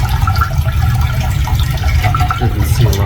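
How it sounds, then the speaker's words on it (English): A toilet flushes after its wax ring has been replaced: a loud, close, continuous rush of swirling and draining water lasting about three seconds, with no talking. "and then I'll flush it and then look for the leaks"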